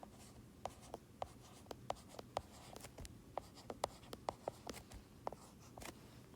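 Handwritten math notes being jotted down with a pen, giving a quiet, steady series of short scratchy strokes and taps at an irregular rhythm, close by, over a faint room hum with no talking.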